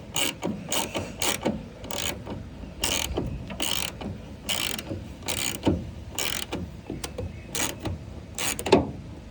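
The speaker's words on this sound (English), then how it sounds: "So I'm gonna go ahead and get these bolted up" A ratchet tightens the bolts on a taillight of a 1999 Ford F250, with repeated bursts of sharp clicking pawl sounds at close range and short pauses between the strokes.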